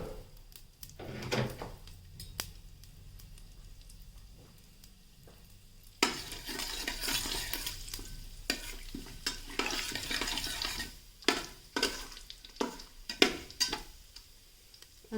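Spices frying in oil with a little dalda for a vegetable biryani, a quiet sizzle at first, then louder hissing and sputtering as a spoon stirs and scrapes the pan in irregular close-up strokes.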